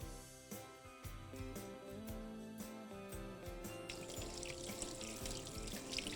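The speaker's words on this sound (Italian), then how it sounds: "Sciacqueiamo i nostri scampi sotto acqua corrente fredda e li andiamo ad asciugare con della carta" Cold tap water runs steadily into a kitchen sink as scampi are rinsed, a continuous splashing stream under faint background music.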